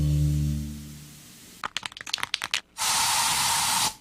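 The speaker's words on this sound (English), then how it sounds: "So you just used bug spray in your home." Bug spray sprays indoors in a home, beginning with a low hum that fades, then a run of sharp clicks and rattles, and ending in one long, loud, steady aerosol hiss that cuts off abruptly.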